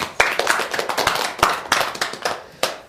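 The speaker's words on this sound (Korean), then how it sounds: "자, 박수 한번." An audience claps in applause during a Buddhist dharma lecture session, a lively scatter of hand claps with sharp accents over a steady patter, close and fairly loud, with no talking.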